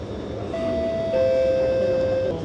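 A Singapore MRT train on the way to Tan Kah Kee hums steadily as a high electric whine rises over the rumble inside the carriage; no one speaks.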